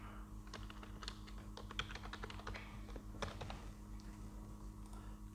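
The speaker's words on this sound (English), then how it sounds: "And type in my password." Someone types a Wi-Fi password on a computer keyboard, giving a quick, uneven run of soft key clicks, close up over a low steady electrical hum.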